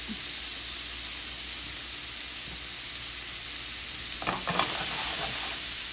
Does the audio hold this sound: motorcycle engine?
no